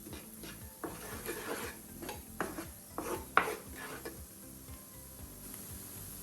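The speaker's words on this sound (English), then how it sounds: "Just keep stirring it well." Creamed spinach being stirred in a pan, a spoon scraping and rubbing against the pan in a steady run of soft, uneven strokes, close and moderately quiet with no talking.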